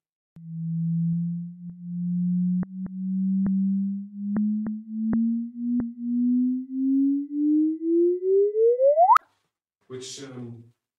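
Sonified gravitational-wave chirp from two tumbling black holes: a smooth pure tone sweeping upward in pitch over about nine seconds, pulsing louder and quieter in regular swells, ending in a sharp rise and cutoff, followed by a brief burst.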